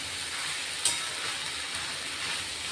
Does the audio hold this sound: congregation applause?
no